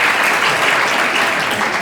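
Church congregation at GBI Marina Plaza Manado clapping together, a dense, loud, even wash of applause sustained throughout with no pauses.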